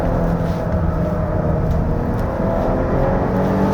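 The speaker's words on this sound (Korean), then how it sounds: "엔진 밖에서의 좀 기계적인 작동음들이 들려옵니다. 터보 차저를 포함해 가지고요." A 2025 Volvo XC60 B6 AWD turbocharged engine drones loudly at sustained high revs in a locked low gear, with a continuous mechanical and turbocharger whir and rumble and no pauses.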